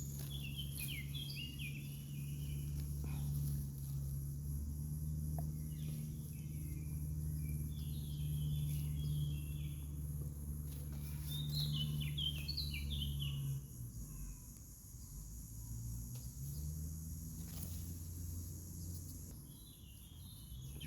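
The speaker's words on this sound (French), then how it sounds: "Et si je prolonge, ce sera juste des chants d'oiseaux." Birdsong beside a river on a June day, with repeated short chirping phrases in the distance over a steady low background rumble and insect-like buzzing, with no talk.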